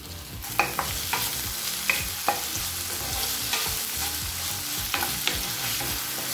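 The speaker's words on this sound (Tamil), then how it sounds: "1 தக்காளி நல்லா வதங்கிடுச்சுங்க." Tomato sautés and sizzles in a pan for Chettinad egg curry, a steady close frying hiss broken by repeated scraping knocks from a spoon stirring against the pan.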